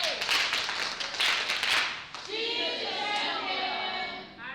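Audience clapping at a communications and digital technologies event, a dense burst of applause for about two seconds that then stops, followed by a voice speaking.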